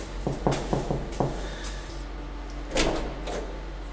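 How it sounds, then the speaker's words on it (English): Knocking on a dentist's office door in Turkey: five quick sharp raps in a steady rhythm, close and clear, followed by a quieter shuffle and a brief clatter. "I'm going to knock"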